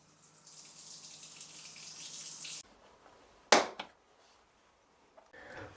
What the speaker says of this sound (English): Let's get the water back on